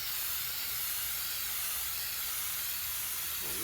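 A spray paint can dusting an aquatint plate gives a steady, close, continuous hiss that lasts the whole few seconds, with no talking.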